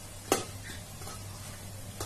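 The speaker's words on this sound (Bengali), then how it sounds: "বড়াগুলো আমার লাল লাল করে ভাজা হয়ে গেছে" Lentil fritters (bora) fry in hot oil as a utensil stirs and turns them, with one sharp clink against the pan followed by a soft, steady sizzle.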